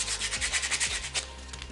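Close, steady back-and-forth rasping of hand sanding along wooden edges, quick rhythmic strokes with no voices.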